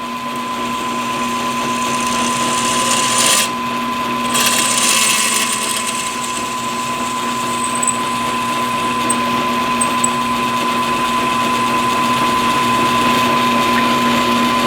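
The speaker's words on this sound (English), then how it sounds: "We're gonna drill these two back holes with the number 16" A steady high-pitched machine whine of drilling holes into a metal AK rifle center support with a number 16 bit runs continuously, close and loud, with a couple of brief shifts in tone partway through.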